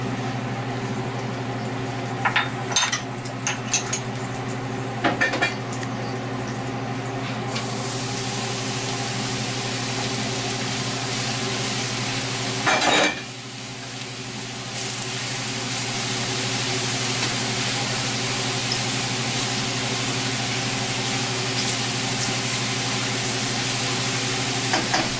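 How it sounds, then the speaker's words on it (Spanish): Mushrooms cook in a covered pot for white bean soup, releasing their liquid with a steady, close simmering hiss and bubbling, a brief clatter partway through. "Dejamos que los champiñones se vayan cocinando, que vayan botando el líquido."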